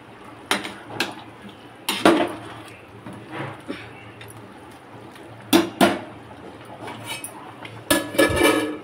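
A metal spoon clinks and scrapes against the inside of a cooking pot of chicken with cashews while the meat simmers, sharp irregular knocks in bursts with quieter gaps, close and fairly loud, no talking.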